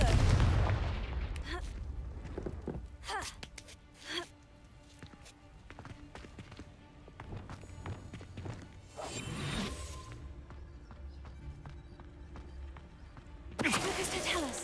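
Repeated Confringo blasting-spell explosions from Hogwarts Legacy ring out in bursts, with big broadband blasts around the middle and a final loud blast near the end, mixed with game sound effects and rumbling low ambience.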